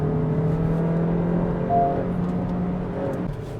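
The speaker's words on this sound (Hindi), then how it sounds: "पहले गियर में 7000 आरपीएम तक जाती है गाड़ी।" A 2026 Honda City facelift petrol manual car's engine holds a steady, droning note as it pulls in first gear toward 7000 rpm, heard from inside the cabin with no talking.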